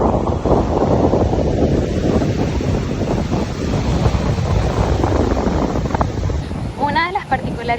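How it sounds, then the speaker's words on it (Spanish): Strong ocean waves roar continuously at a tropical beach, heavy and close, with loud wind buffeting the microphone throughout and a voice speaking briefly near the end. "Pero las olas están muy fuertecitas."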